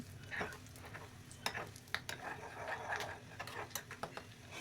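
Vadagam crackles as it is tempered in hot oil for sambar: quiet, close popping and spitting with irregular sharp ticks over a soft sizzle, without talk.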